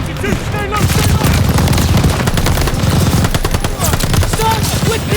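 Heavy automatic fire from a tower-mounted machine gun in the World War II shooter Call of Duty: Vanguard, loud rapid bursts layered with booms and shouted voices throughout.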